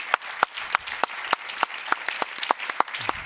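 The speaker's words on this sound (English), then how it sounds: "I suggest another big applause for our participants" Sparse applause from a conference audience at a security and climate change panel, a thin scattering of distinct claps spaced unevenly, fairly close and moderately loud, with no talking.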